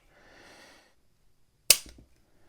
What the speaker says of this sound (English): let's test the trigger pull on this bad boy